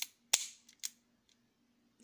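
A Chiappa White Rhino special edition revolver fires one sharp, loud shot, followed a moment later by a second fainter crack. A low hum fills the pause, and a soft noise comes in at the end.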